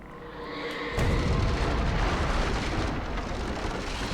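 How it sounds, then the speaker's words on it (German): A loud, deep video game explosion in Alan Wake erupts about a second in, followed by a sustained rumbling roar that fills the rest of the clip. "Ah, Explosion."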